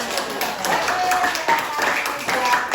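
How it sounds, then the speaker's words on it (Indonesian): A classroom audience claps after a group presentation, a steady patter of hands lasting throughout, with voices talking over the applause. "Tepuk tangan buat kita semuanya."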